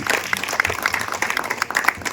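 An audience at a World Human Rights Day celebration applauds as a national president is honoured, giving a short, lively burst of close, dense clapping.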